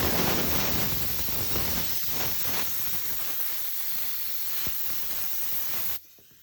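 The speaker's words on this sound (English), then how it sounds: "And give it another little spray." A steady hiss of aerosol spray onto fabric for a Land Rover Sport D-pillar suede install runs continuously for about six seconds, then cuts off abruptly into quiet.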